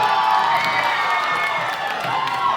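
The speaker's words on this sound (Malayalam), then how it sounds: "കൊട്ടാരക്കാർക്ക് ഒരു വലിയ കൈയടി." A large crowd cheers, shouts and claps at a temple festival, a loud continuous roar of voices with whoops and scattered applause.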